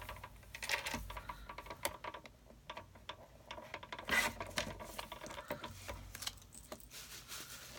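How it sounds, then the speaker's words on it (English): Paper for a Stampin' Up! handmade card being trimmed close by, a run of quiet clicking and rasping cuts with small ticks and scrapes, steady and unhurried, with no talk. "So I'm going to cut this down so it is like this, and I'm going to cut a little bit off each side."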